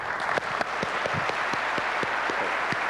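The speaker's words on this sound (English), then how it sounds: "Okay, so we politely applaud." Small group of store managers at a company meeting giving polite, fairly light applause, scattered individual claps close by over room noise.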